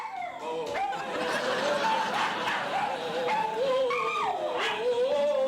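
A dog howls and yips in a sustained, wavering melodic line, singing along loudly and continuously over background music throughout.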